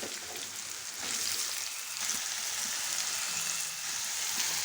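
Ridge gourd pieces go into a pan of softened frying onions, and a dense, even sizzle hisses steadily throughout at low volume.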